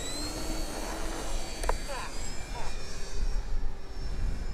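A Turbo Timber Evolution RC plane makes a low pass in gusty crosswind, its motor a steady drone that swells and fades over a few seconds beneath wind noise.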